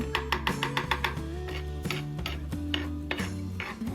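A spoon presses and mashes an evening snack mixture in a metal pot, producing repeated clinks and scrapes in a loose rhythm over a steady low hum, close and fairly quiet.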